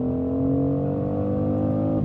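Synthesized inline-six engine note of a 2025 BMW X3 M50 piped through the cabin speakers, a steady, close, droning hum with layered harmonics and slight rising pitch, continuous and alone.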